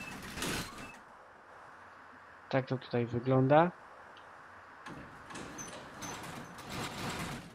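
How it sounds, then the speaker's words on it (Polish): Bus doors in the OMSI bus simulator, on a BAZ A079, give a quick cluster of mechanical clunks and hisses in the middle, with speech before and after. "O, tutaj mamy drzwi."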